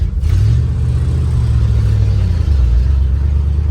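A 1967 Ford F100 pickup, abandoned for years, drives on its first test run, its engine giving a loud, steady low rumble throughout with a slight rise and fall in pitch.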